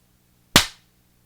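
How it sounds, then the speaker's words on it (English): A single sharp clap from podcast hosts, close and crisp, decaying quickly into silence. "We clap first, I think."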